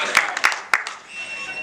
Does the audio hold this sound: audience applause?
yes